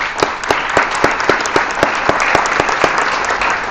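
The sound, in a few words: audience applause for students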